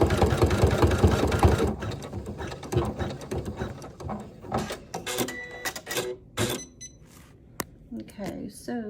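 A Janome 500e embroidery machine sews a satin stitch, producing a fast rattling mechanical buzz that runs loud at first and then drops to lighter clicks and whirs, with a person talking throughout.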